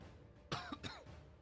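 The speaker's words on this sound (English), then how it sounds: "Sorry, I apologize for the coughing." A person coughs twice in quick succession, close and fairly loud, with a throaty, rough quality from a recovering sore throat, at an indoor tabletop game session.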